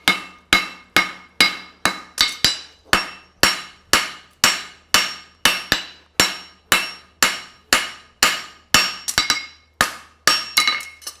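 Repeated hammer blows on an anvil while forging the branch of a French hind horseshoe, about two strikes per second, sharp ringing metallic clanks with long decays, close and loud with no talk.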